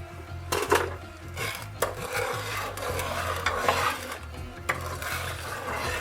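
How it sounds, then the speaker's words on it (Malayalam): A spoon scraping and stirring pink palada payasam in a pan, giving steady rasping strokes with occasional sharper knocks against the metal, close and alone. "ഇങ്ങനെ ഇടയ്ക്കിടയ്ക്ക് ഒന്ന് ഇളക്കി കൊടുത്താൽ മതി"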